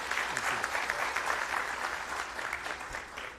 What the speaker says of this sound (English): let's give him a round of applause, Mr. William Thompson